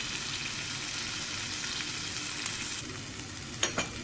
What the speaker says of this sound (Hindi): हम इसको लाइट सा शैलो फ्राई करेंगे कम ऑयल में